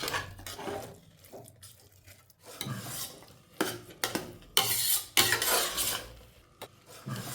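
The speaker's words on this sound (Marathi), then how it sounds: "पुरण डायरेक्टली मी कुकरमध्ये परतून घेत आहे." Chana dal puran being stirred and sautéed directly in a pressure cooker: intermittent scraping and rubbing strokes of a spoon against the metal pot, uneven and moderately quiet, with short pauses.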